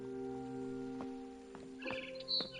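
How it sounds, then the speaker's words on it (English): A few short, high barn swallow chirps near the end, heard over a steady electronic hum and sustained synthetic tones in the video game What Remains of Edith Finch. "Then I heard chirping outside my window."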